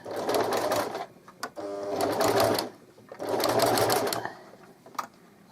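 A home sewing machine stitches a baby blanket in three sustained bursts, running back and forth with short pauses and a few soft clicks between runs, close and fairly loud with no talking.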